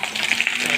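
Raw mango pieces sizzling in hot oil for a sweet mango pickle, a short bright burst of frying crackle, steady and close.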